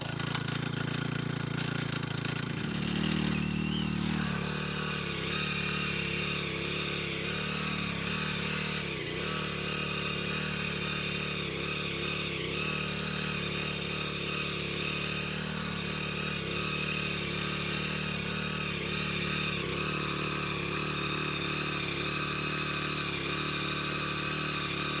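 An old winch's engine starting and then running on choke at a farm, a loud, close, steady mid-pitched chugging drone that continues throughout with slight wavering.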